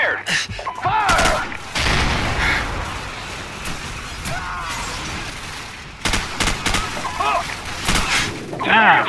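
Gunfire from a Call of Duty 4: Modern Warfare match comes in bursts and single booming shots, mixed with game noise, while someone talks excitedly over the action.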